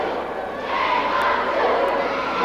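Wrestling arena crowd at an ECW event, a steady wash of voices swelling and jeering in frustration at a wrestler, loud and continuous from nearby with no pauses.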